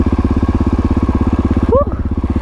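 A dirt bike engine idles nearby with a steady, throbbing low putter, and a short whistle-like squeak rises briefly near the end.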